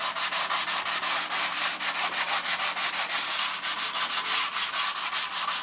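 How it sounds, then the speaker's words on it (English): Block sanding balsa wing sheeting on a Nobler model airplane, a steady rhythmic rasping rub with quick back-and-forth strokes, close and continuous throughout. "this is block sanding right in like a champ"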